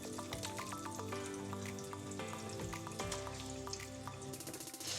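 Salmon sizzles in hot oil and butter in a pan, a dense, loud, continuous crackle that holds steady from start to finish.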